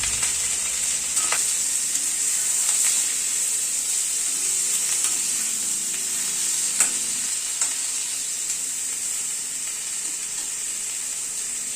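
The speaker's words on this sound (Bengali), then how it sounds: "সবজিটা মিনিট 2 একটুখানি নাড়াচাড়া করে নিলাম" Pumpkin leaves seasoned with salt and turmeric fry in a pan, a steady close sizzle with occasional scrapes and taps as they are stirred.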